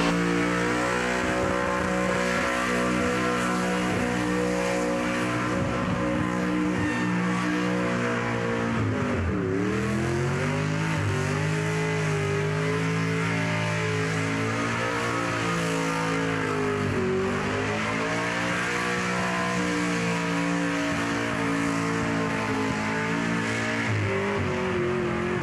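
A burnout car at the Summernats burnout pad screams at sustained high revs with rising and falling engine pitch and tyre noise, loud and continuous throughout with no talk.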